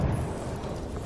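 Grenade blast in the World War I shooter Battlefield 1, a dense, loud rumbling roar that fills the whole short stretch without a clear separate onset, heavy in the low end.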